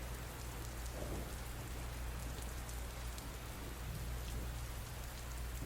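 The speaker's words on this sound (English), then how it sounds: "Oh, it's raining." Steady rain falls in a scene from a Thai drama series, a constant hiss of drops on surfaces with low rumbling beneath, even and unbroken throughout with no voices.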